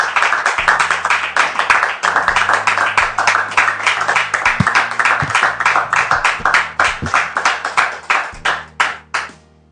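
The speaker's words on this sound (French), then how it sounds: "je voudrais qu'on reçoive encore sous vos applaudissements" An audience welcomes a guest, Dame Priska, with applause: strong, rhythmic unison clapping, loud and close, sustained for nearly ten seconds over a low sustained musical tone, with no speech.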